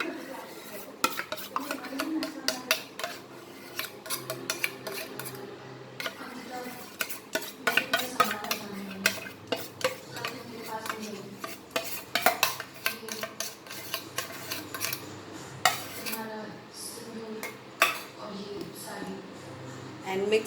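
Chocolate ice cream mixture being stirred with a utensil in a bowl, giving steady scraping and clinking against the sides, with occasional sharper knocks throughout.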